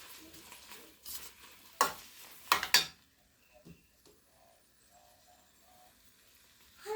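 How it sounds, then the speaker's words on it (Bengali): Cooked rice being stirred together with kale in a pan, a few sharp scraping strokes and clatters of a utensil against the pan, then quieter intermittent stirring with a light sizzle underneath. "আস্তে আস্তে করে আমি এটা শাকটা দিয়ে রাইসটা মিশিয়ে নেব।"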